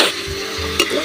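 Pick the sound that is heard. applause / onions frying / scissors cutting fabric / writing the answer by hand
onions frying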